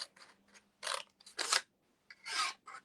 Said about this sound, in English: just use the scissors and cut away